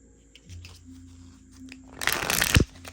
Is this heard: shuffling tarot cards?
yes